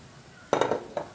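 A utensil scrapes and clinks against a pot while breaking up clumped leftover rice from the previous night's dinner, two short bursts after a quiet start.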